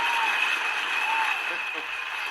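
Steady applause and crowd cheering fill the whole stretch at an even, dense level, played as a sound effect for a Philadelphia sports talk show introduction, with no voices rising above it.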